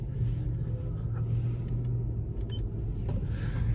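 Lexus LS 430 sedan on a test drive, heard from inside as a steady low engine and road rumble, smooth and continuous with no talking.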